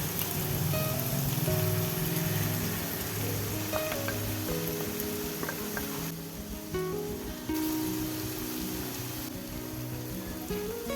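Beaten egg sizzles and crackles in a hot pan beside sautéed vegetables, a steady spattering hiss with a few utensil taps, fairly soft and close.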